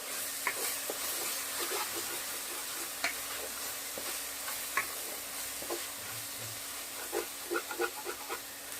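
Spinach sautéing with ginger paste in a pan gives a continuous soft sizzle, punctuated by scattered light taps and scrapes of a spatula stirring, with no talking.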